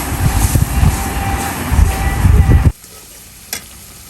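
Turmeric and chili spice paste stir-fried in a pan for a Bengali fish curry: loud, dense sizzling with scraping stirs for nearly three seconds, then a sudden drop to near quiet with one faint clink.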